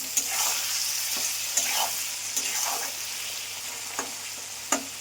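Pressure-boiled chillies being stir-fried in a pan for vegetarian soybean curry, a steady close sizzle broken by several sharp spatula scrapes and taps at irregular intervals, with no talking.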